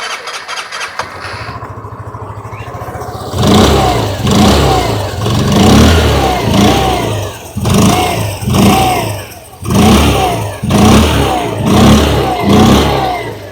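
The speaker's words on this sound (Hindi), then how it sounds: "आइए अभी सुन लेते हैं इस स्कूटर की एग्जॉस्ट नोट।" A 2026 Hero Xoom 110 scooter starts up and its exhaust revs repeatedly, close and loud, in about six rising and falling bursts with brief dips between them after a quieter opening idle.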